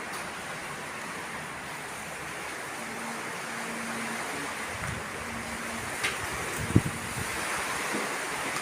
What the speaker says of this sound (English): Wind's just blowing it down.